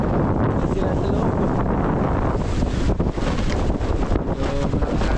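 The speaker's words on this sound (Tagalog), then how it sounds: "So, malakas ang hangin dito." Strong wind buffets the microphone in a loud, continuous roar that barely lets up, with faint voices muffled beneath the rumble.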